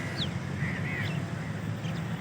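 Crows caw faintly a few times in an outdoor setting while feeding, under a steady low rumble of background noise, with no talking.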